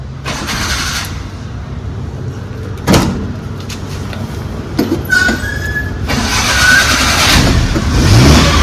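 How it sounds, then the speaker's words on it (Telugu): A Maruti 800 car engine cranks and starts with a brief burst near three seconds, then idles as a steady low rumble that swells louder toward the end, with a few clanks and knocks close by. "నేను ఇంజన్ అయితే స్టార్ట్ చేస్తున్నా"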